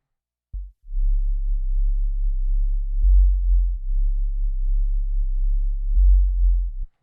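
A deep, smooth FM8 synth sub bass in a song holds low sustained notes with slight swells and a few soft clicks at the note changes, loud and alone with no voices.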